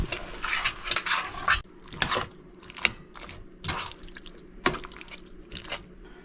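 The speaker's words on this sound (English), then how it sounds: "Now I'm going to stir it again." A spoon stirs a spiced mixture in a pot while camping in an RV kitchen, giving irregular wet scraping and clinking strokes, some sharper knocks against the pot, close and fairly loud.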